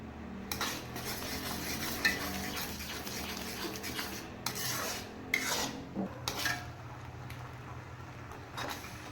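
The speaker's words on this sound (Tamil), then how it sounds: "இனிமேல் தான் நம்ம கை விடாமல் கிண்டிகிட்டே இருக்கணும்." Milk being stirred continuously as it reduces down for milk khoa, a spoon scraping and rubbing steadily against the pan with irregular clinks, close and moderately loud, with no talking.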